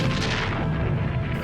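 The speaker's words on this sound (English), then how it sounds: "These are falconets, light, breech-loading artillery." Falconets, light breech-loading cannons of the Spanish conquest of Mexico, booming in a dense, rumbling volley, with heavy low-end reverberation filling the short stretch.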